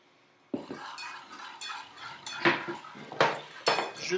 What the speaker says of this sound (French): je travaille ça avec un fouet